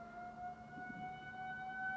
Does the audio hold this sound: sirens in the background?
yes